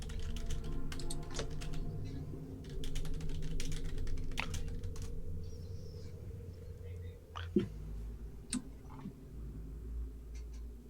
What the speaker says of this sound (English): Somebody typing.